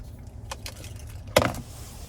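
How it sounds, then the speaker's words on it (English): Keys on a 2022 Cadillac Escalade Sport key fob with remote start give a quiet jingle or two, then one sharper, brighter metallic jangle, heard close inside the vehicle cabin over a low hum. "here's our key fob with remote start"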